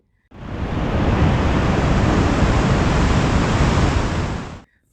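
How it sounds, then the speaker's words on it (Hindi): Bhagirathi river water roaring far below in a deep mountain valley at Gangotri: a steady, dense, loud rush of broadband noise that holds constant throughout, with no voices. "नीचे गहरी घाटी में भागीरथ जी के जल की कितनी ज़्यादा आवाज़ आ रही है।"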